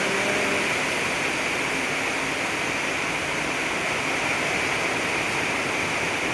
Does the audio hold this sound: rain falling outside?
yes